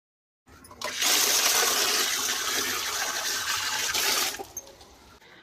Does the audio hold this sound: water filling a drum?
yes